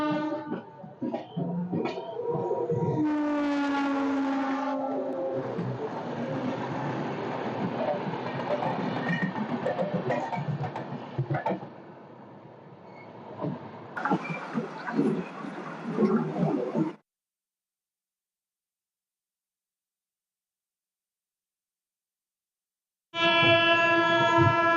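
The Howrah-Chennai Mail pulls out of Chennai Central station, with loud rumbling carriage noise and sharp horn blasts. A gap of silence follows before a final loud horn burst.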